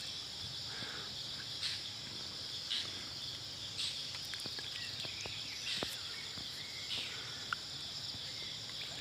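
Crickets chirp at night in a continuous high, shimmering trill that holds steady over a quiet background, broken now and then by faint clicks and brief taps.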